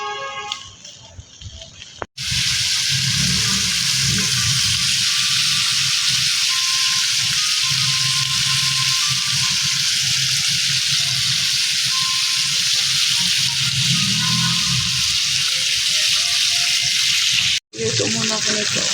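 Food frying in a pan sizzles loudly and steadily for about fifteen seconds, a dense hiss that cuts in abruptly and stops just as suddenly near the end, with a brief pause in between.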